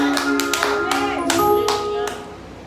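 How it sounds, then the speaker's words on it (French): Church congregation clapping during an anniversary service: sharp, rhythmic hand claps in a steady beat, loud and close, with voices and ringing tones mixed underneath. "maintenant, pour moi, bon Dieu, une belle acclamation au nom de Jésus-Christ."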